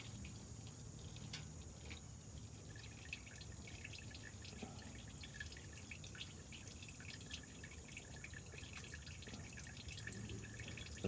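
Fluid drips steadily from a 6.7L diesel truck into a catch container during maintenance, a faint irregular patter against a constant high background hiss, with no talking.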